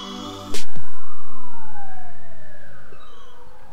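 A fire engine or ambulance siren wails past on a busy street, bursting in loudly after a brief moment and then sweeping up and down in pitch while slowly fading.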